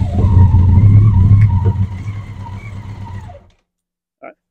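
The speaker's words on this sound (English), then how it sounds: "the bike just ran" A BMW K100 motorcycle engine catches and runs loudly for a few seconds during fuel pressure testing, then dies off abruptly into silence, followed by one short faint noise.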